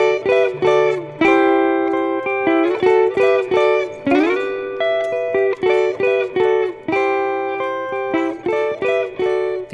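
Strummed and plucked guitar chords in a lively, syncopated African rumba rhythm, close and clear with no talking.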